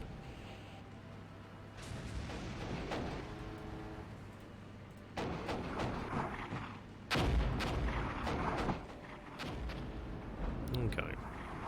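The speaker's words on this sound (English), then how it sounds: "That's like a minigun" Gunfire in the tank warfare game Armoured Brigade: sharp sustained bursts crack out at irregular intervals like a minigun, some booming louder, over a low engine drone with a voice talking underneath.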